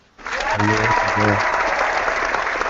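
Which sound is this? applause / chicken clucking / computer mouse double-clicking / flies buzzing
applause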